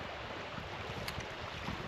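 A fast-flowing river fed by mountain snowmelt beside a campsite makes a steady, broad rushing wash, even and unbroken across the short stretch.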